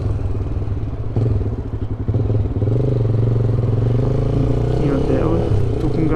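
Honda CBX Twister motorcycle fitted with a Roncar exhaust, ridden on a highway with a passenger aboard; a steady, loud engine drone runs throughout with slight pitch rises, close to the microphone with wind noise.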